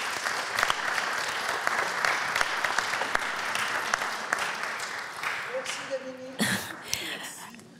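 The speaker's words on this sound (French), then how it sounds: "On peut applaudir." A crowd applauds steadily for several seconds, the clapping thinning out near the end as a voice begins speaking.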